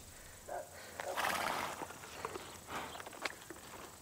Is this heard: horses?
yes